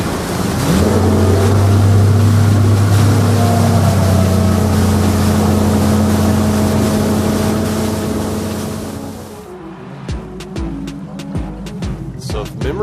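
Fishing boat outboard motor throttling up from idle to speed on a creek, a loud steady drone with rising pitch, then easing off near the end as water noise and a few clicks take over.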